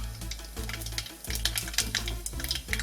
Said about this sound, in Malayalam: ഒരു പിഞ്ച് ഉലുവ ഇട്ട് കൊടുക്കാം.